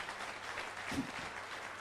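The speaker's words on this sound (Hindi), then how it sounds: "सो कुलीन के लिए जोरदार ताली मारिए, कुलीन जी के लिए।" Audience applause at a motivational talk on success, a faint, brief patter of clapping from a crowd.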